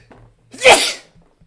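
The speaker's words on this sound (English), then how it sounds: "I don't need to sneeze." One close, forceful sneeze rises out of faint background shuffling, peaks briefly and tails off into soft breathing and small noises.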